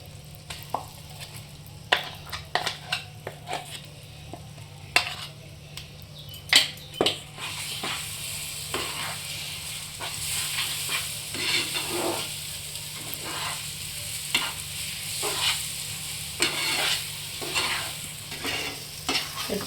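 Ground moong dal paste fries in a pan with turmeric for kochuri and is stirred, so that a steady sizzle sits under repeated sharp scrapes and clinks of the spoon against the pan, close up, with no talking.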